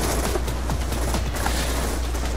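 Auto turrets firing in the video game Black Ops 2, a dense, continuous burst of rapid automatic gunfire, loud and sustained without pause.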